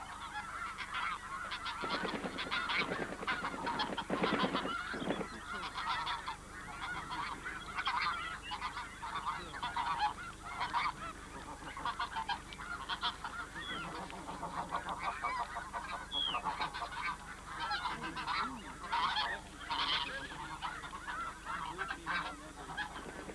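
A large flock of geese honks in a dense, continuous chorus, with louder overlapping calls bunching early on and steady, busy honking filling the rest, close and without speech.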